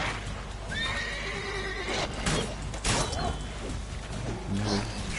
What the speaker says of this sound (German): Oh, jetzt weiß ich, wie ich das Pferd rufe,